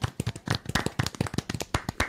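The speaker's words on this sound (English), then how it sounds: "Clap at her again." Quick, irregular hand claps from a small group on a paranormal podcast set, thanking guest Jessie Villanueva, close and fairly quiet, with no talking.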